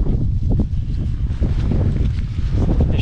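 Steady, gusty wind in Corbels Canyon buffets the microphone with a continuous low rumble and rustling, no voices.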